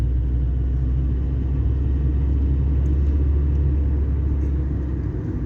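A Honda Civic 1.6 on the move produces a loud, steady low engine and road rumble from inside the car, with no distinct gear change standing out and no talk.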